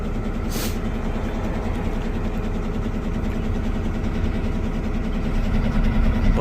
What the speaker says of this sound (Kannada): ನಾನು ಗಾಡಿ ಮೂವ್ ಮಾಡ್ತಾ ಇದ್ದೀನಿ